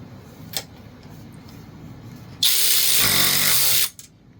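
SeeSii cordless power ratchet wrench torquing down a bolt in one loud buzzing whir of about a second and a half, after a short faint click and quiet handling.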